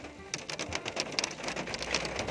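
Rain beginning to fall outdoors, a faint scattered patter of drops tapping on surfaces with light ambient noise and no talk.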